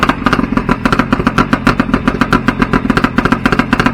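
A 50 hp Johnson outboard motor runs close and loud just after starting, with a rapid, even, clattering pulse of idling beats.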